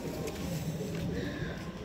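Teddy pigeons cooing on a rooftop in Sialkot, soft, low, repeated coos, faint under a steady background hiss.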